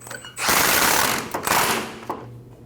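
Power tool tightening the pitman arm nut on the steering box of a 2012-2021 Nissan NV2500: a loud, steady mechanical buzz with rattling impacts runs for about a second and a half, then drops away.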